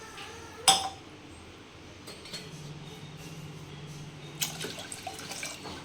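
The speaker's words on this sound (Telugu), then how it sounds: "5 cups ఆఫ్ వాటర్ అయితే యాడ్ చేస్తున్నాను నేను" Water, five cups, is poured into rice in a cooker for ragi sangati: a sharp metallic clink, then a quiet, steady pour running for a couple of seconds, with no talking.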